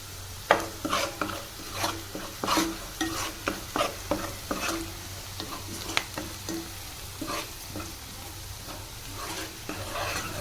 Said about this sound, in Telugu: సో ఇప్పుడు కొంచెం మనం పసుపు అయితే వేసుకుందాం